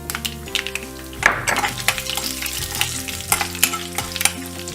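Green chillies frying in hot oil with popped mustard seeds and urad dal for potato podimas, a steady close sizzle with a ladle stirring and scraping the pan, no voices.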